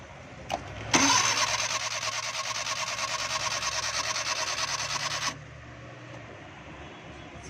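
A Suzuki Mehran that stalled while driving cranks for about four seconds without catching, a loud steady whirring starter drone that cuts off abruptly into quiet.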